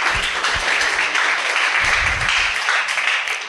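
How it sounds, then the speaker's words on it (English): An indoor audience at a tech talk applauds, a steady, fairly close wash of clapping from many hands lasting a few seconds with a few low thumps underneath. "once again, a round of applause for Jay for coming up to talk about UI."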